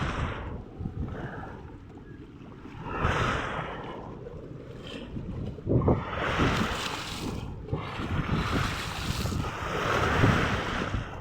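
Strong sea waves surge and crash in repeated loud swells by the shore, with roaring washes of water and gusts of wind buffeting the microphone.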